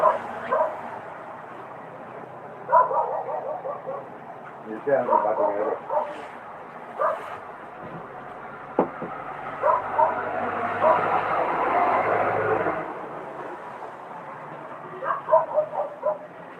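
Several short dog barks and yips come in bursts, some overlapping a sustained hum of background noise, at moderate distance.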